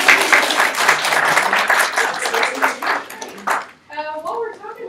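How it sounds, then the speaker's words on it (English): Audience applause at a student government association meeting, a room of clapping hands mixed with voices and chatter for several seconds before fading out, followed by a few soft ringing pings. "Y'all can applaud her."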